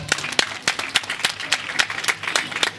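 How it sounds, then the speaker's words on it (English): An outdoor community crowd in Lamin Village applauds at a neighbourhood group's one-year anniversary launch, a loose patter of many hands clapping unevenly, fairly close, with a few sharper individual claps standing out. "Can we give them a round of applause for that?"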